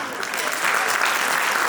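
An audience at a children's choir anniversary concert applauds, a steady wash of clapping close and continuous.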